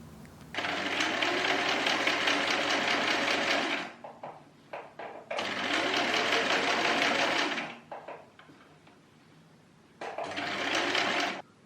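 Sewing machine stay stitching a shirt collar, running in three loud, steady bursts of rapid mechanical whirring and clatter, separated by short pauses filled with small handling clicks.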